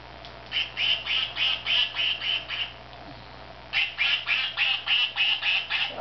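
A squeezed toy duck gives two bursts of rapid, rhythmic squeaky quacks, about seven honks each, loud and close, with a short pause between the runs.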